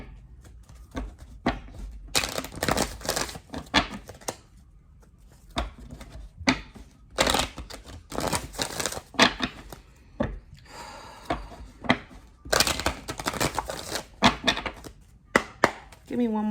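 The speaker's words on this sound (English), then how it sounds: "Let's shuffle up." Tarot cards are shuffled in repeated bursts of papery riffling and soft slapping, close and fairly quiet, with brief pauses between shuffles.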